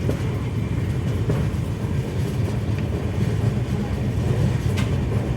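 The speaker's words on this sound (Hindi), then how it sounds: "अभी सामने एक ट्रेन आ गई" A train rolls past close by near Bagdogra, a loud continuous rumble with clattering wheel noise throughout and no talking.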